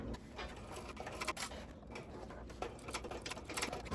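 Sewing machine stitching a bag made from the Windsor Bag pattern, passing over a fabric hump jumper at a thick crossbody strap connector; a steady, close mechanical whir and patter with no talking.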